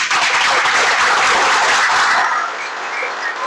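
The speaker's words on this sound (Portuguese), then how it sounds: "Palmas, por favor." Audience at a lecture applauding as the next speaker is introduced, loud continuous clapping that eases slightly toward the end.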